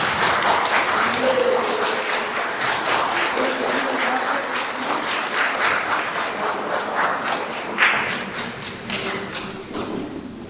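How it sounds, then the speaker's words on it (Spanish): Guests at a quinceañera celebration in Guadalcázar, San Luis Potosí clap together in a sustained round of applause, with a few voices and stray thumps mixed into the crowd noise. "vamos a dar un aplauso a Alejandra"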